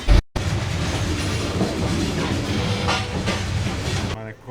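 The Kurigram Express, running from Dhaka to Kurigram, rumbles loudly and steadily from inside the carriage, with a continuous clickety-clack over the rails and no talking.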